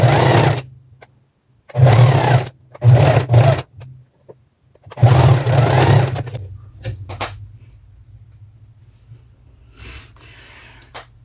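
A sewing machine stitches a seam on elastic-waistband pants in several separate bursts of rapid mechanical whirring, close and loud, with short pauses between runs and quieter handling noise near the end.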